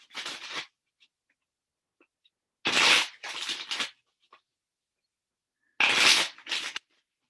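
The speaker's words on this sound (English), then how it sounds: "Let's see if I can draw a different card than the healing card for the Scorpios." Oracle cards are shuffled and drawn in three brisk bursts of crisp riffling and flicking, close and dry, separated by stretches of silence.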